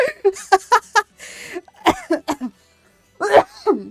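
Several sharp coughs in quick succession, close and loud, then a pause and another harsh cough burst, with no talking.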